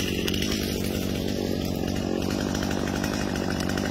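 Brand-new Stihl MS250 chainsaw running on its first use, a steady, loud, close buzzing drone that holds the whole time without letting up, and no talk over it.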